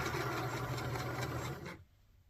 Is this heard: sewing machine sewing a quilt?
yes